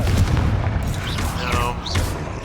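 A fiery blast spell goes off in a Hogwarts Legacy battle, a short booming burst followed by crackling, whooshing effects, loud and close over a continuous rumbling game backdrop with a voice calling out.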